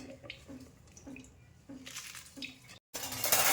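Washed leafy greens (bhaji) sit draining in a home kitchen, with water trickling and dripping in soft, irregular patches and a few louder splashy bursts close by.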